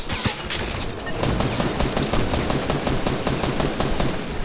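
Sustained rapid gunfire in a shooter video game as an enemy fires at the player, with dense, rattling automatic bursts and sharp individual shots, loud and close, running continuously for several seconds.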